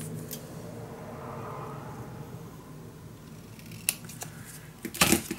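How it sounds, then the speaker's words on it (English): Paper being cut in half with a trimmer or scissors for a scrapbook mini album, a soft sliding scrape followed by a few sharp crisp snips close by near the end. "Yes, I can cut this in half."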